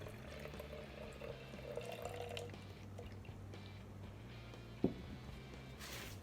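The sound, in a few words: pouring white vinegar into a spray bottle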